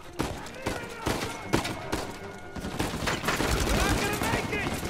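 A machine gun turret in the Uncharted 4 video game fires rapid bursts of gunfire, loud and close, with overlapping shots and impacts continuing through the short stretch.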